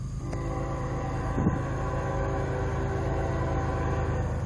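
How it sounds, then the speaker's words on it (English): A CSX freight juice train passes Folkston at night with a steady, loud rumble and tonal drone of rolling wagons. Brief metallic clanks sound over it. "Here comes train number 25 that I'm filming."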